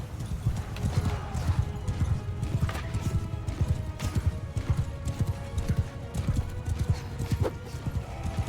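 Hooves clop rapidly in a galloping rhythm throughout, with a horse whinnying and a dense, noisy backdrop of battle effects in the video game Mount & Blade II: Bannerlord.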